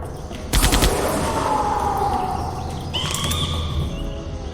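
Rapid volley of gunfire from Jurassic Park: The Game crackles in a sharp burst, then fades under a tense ambient game soundtrack with a rising tonal sweep and a later shimmering flourish.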